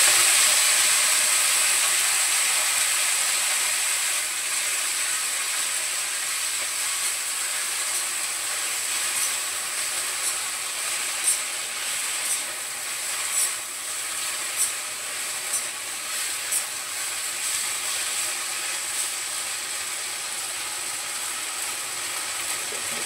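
Vegetables dropped into a pan of fried garlic and cumin sizzle with a steady, bright hiss that starts loud and gradually settles, punctuated by occasional crackles and pops, with no talking.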